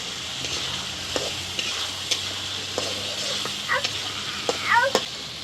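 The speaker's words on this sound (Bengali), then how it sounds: "এখন আলুগুলো দিয়ে কিছুক্ষণ টাইম ভাজবো।" Potatoes fry in oily spice masala with a low steady sizzle and scattered stirring clicks, while a cat meows a few times nearby toward the end.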